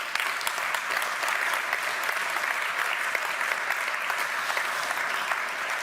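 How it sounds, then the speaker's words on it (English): Sustained applause from a large audience at a media award ceremony in Potsdam following a keynote address, a dense steady wash of many hands clapping at even loudness throughout with no voices over it. "I think that deserves a great round of applause."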